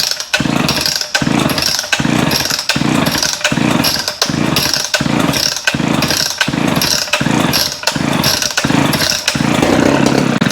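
A vintage Homelite SXL chainsaw engine runs loud and close with a choppy, pulsing rhythm, surging roughly every second as if being blipped or running unevenly.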